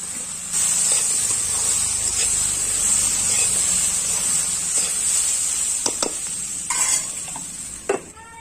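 Chili powder and turmeric powder sizzle in a hot frying pan during a Chhattisgarhi vegetable dish, a loud steady hiss running throughout with a few brief clinks and stirring scrapes near the end.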